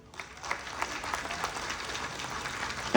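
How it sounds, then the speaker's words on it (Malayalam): A school audience at a PTA event gives a round of applause, dense clapping that swells slightly and holds steady for a few seconds before a sudden louder knock at the very end. "ഒരു ക്ലാപ്പും കൂടെ കൊടുക്കണം നിങ്ങൾ"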